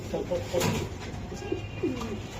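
A racing pigeon coos in a few soft, throaty phrases close by, with faint background noise around it.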